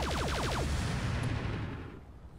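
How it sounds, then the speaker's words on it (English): Rapid bursts of machine gun fire from a mech in the Roguetech battle game, a fast regular rattle that rolls on as a loud, dense stream and then tails off into a fading rumble. "Two machine guns?"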